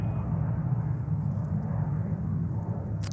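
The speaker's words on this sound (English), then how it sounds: "There we go, Turkish 787-9 Dreamliner" A Turkish Airlines Boeing 787-9 Dreamliner passes as a steady, broad jet roar with a low rumbling base, heard from a distance with no voices over it.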